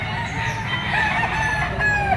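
A rooster crows loudly and close by at a gamefowl market in Padre Garcia, Batangas. The drawn-out call rises and wavers over the background chatter of the market.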